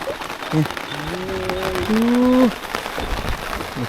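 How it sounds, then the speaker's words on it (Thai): Steady rain falls at a rural reservoir fishing spot, a dense hiss of drops spread across the whole clip, with a voice speaking briefly over it in the middle. "ฝนมาแล้ว"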